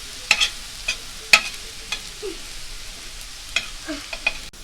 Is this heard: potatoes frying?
yes